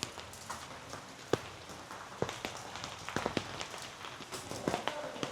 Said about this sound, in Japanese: 雨が降ってて今日は寒いですね。